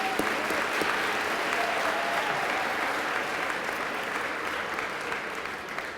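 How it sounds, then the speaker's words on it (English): Sustained audience applause at a high school commencement ceremony, a broad even roar of many hands clapping that slowly eases toward the end. "We have a round of applause for him,"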